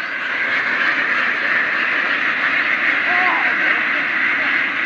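A flock of three-month-old ducks on a Philippine duck farm quacks in a dense, continuous chorus, close and loud throughout.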